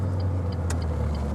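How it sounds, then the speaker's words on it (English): Renault Clio RS engine dropping a gear on an open road, a loud steady in-cabin drone with brief higher-pitched mechanical chirps over it and one short sharp click partway through, no talking. "Downshift"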